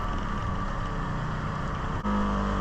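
A 2024 Polaris XP 1000 off-road vehicle engine running at a steady loud drone, with a brief dip partway through before the drone resumes.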